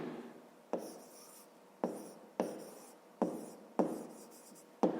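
Close, quiet scratching of a pen writing by hand on paper during a grade 5 math lesson, continuous strokes punctuated by about six crisp taps, with no one speaking.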